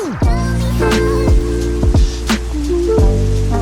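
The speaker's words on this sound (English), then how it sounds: "while we're waiting for the rain to stop" Rain falls in Zagreb, Croatia, with loud close drops striking a surface in uneven plops and splashes over a constant wet patter.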